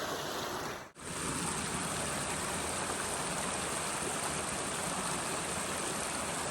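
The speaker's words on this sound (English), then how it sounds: "I was going to sit by the river while having the coffee, but it's quite loud" A river stream rushes steadily and loudly close by at a rural UK spot, a continuous broadband wash of flowing water with one brief dip near the start and no talking.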